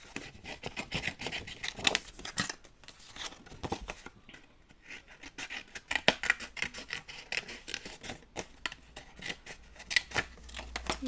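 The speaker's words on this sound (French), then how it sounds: "Je vais découper ça." Scissors cut through Rosalia collection scrapbooking paper from Scrapboys in quick, repeated close snips and rasping slides, with a brief pause partway through.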